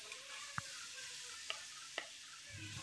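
Kharkol leaves fry quietly in a pan, giving a soft, steady sizzle with a few sharp clicks as they are stirred.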